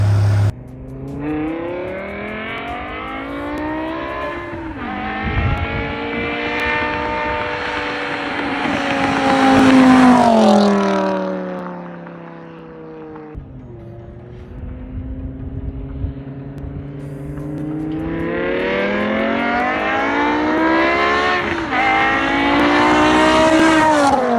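A BMW E60 M5 V10 revs hard during data-logging runs, climbing through the gears in two long, loud rising sweeps with a brief drop to a lower drone between them.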